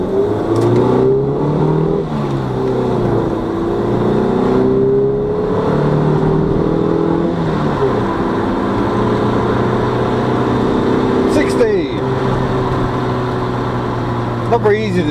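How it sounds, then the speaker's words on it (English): Austin Montego Mayfair 2.0 EFi saloon pulling away from a 90-degree junction, engine note rising steadily under acceleration with rumbling road noise throughout, while someone talks over it. "Not very easy to do a 0 to 60 from a 90-degree junction."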